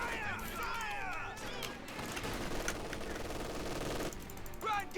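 Machine gun fire in the video game Company of Heroes 2, rapid rattling bursts amid battlefield noise, with soldiers shouting over the gunfire.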